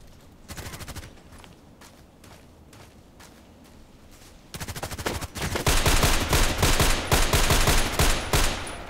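Rapid video game gunfire in a shootout, sparse bursts at first, then a dense, loud stretch of sustained automatic fire in the second half.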